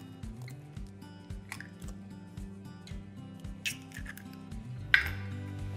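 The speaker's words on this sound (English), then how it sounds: "And then I'm gonna throw 1 egg in there." An egg goes into a bowl of cookie dough ingredients, with light clinks and a sharp tap of shell against the bowl, a soft wet plop, and low thumping in the background.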